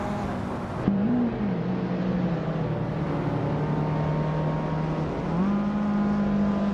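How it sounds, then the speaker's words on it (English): Race cars in a racing video game, a Mazda Miata and Honda CRX among the pack, with a steady loud engine drone that dips in pitch at a gear change near the start and again after five seconds, continuous and unaccompanied by talk. "The Mazda Miata and Honda CRX are struggling to keep up with the pace."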